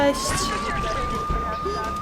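A police car siren wails steadily in GTA III during a chase, holding one sustained tone behind someone talking over it, with street and engine noise underneath.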